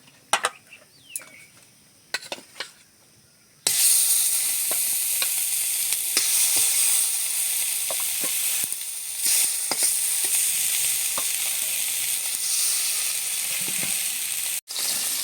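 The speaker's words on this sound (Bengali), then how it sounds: "মাছ কটা ভেজে নেব।" River koi and bhola fish fry in oil in a pan, a loud steady sizzle and hiss that starts suddenly after a few quiet seconds of faint clicks and handling, then runs on close up with no talking.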